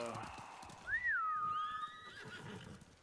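A horse whinnies once in the video game Ghost of Tsushima, with a rising and falling whinny, over a low background rumble and faint voices.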